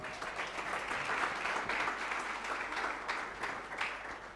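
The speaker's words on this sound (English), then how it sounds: "Round of applause" Faint applause from a small audience at a charity founder's chat, a soft continuous patter of clapping that swells slightly and holds steady.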